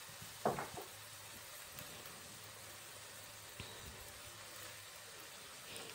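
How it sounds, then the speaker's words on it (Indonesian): Quiet, steady sizzle of meat filling with hoisin sauce stir-frying in a pan for steamed buns, with a brief louder clatter of stirring near the start and a small tap later. "Lalu nih lanjut ditumis sampai airnya agak menyusut."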